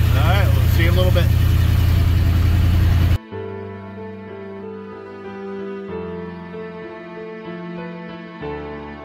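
A 1984 Dodge RAM D150 engine runs loud and rough for about three seconds, then drops to a steadier, quieter drone with tonal hum while the truck is driven.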